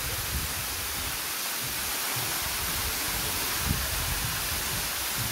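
Hongryong Falls in Yangsan pours in a dense, continuous broadband roar, heard close and steady with no voices, the water's rush unbroken from start to finish.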